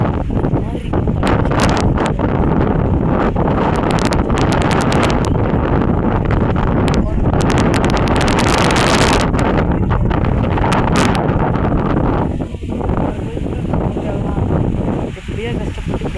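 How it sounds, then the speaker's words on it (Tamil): Strong wind blows through a village in the windy season, roaring loudly and continuously as heavy gusts buffet the microphone, with brief lulls near the end. "பாருங்களேன் காற்று எப்படி அடிக்குதுன்ட்டு"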